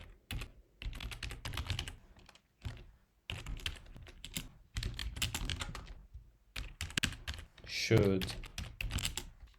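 Someone types code for an Angular component test on a computer keyboard, with rapid bursts of clicky keystrokes separated by short pauses, close and clear, and a voice briefly heard near the end.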